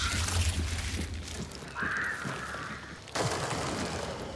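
Crows caw in the Hunt: Showdown game, a short raspy call in the middle of a dull outdoor ambience, followed by a sudden low thud.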